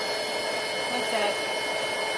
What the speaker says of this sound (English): Just a heat gun. Small one. That just melts around it.